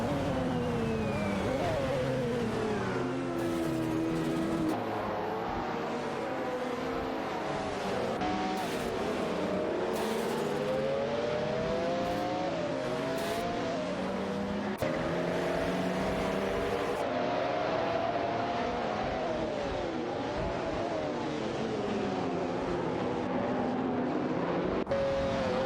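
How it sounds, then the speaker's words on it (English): Several McLaren F1 race cars in a video game whine loudly together as engines rise and fall through gear changes while they battle and overtake, a continuous layered roar with no talk. "US John 7 has successfully taken P3, executing a clean overtake on Waintra 94"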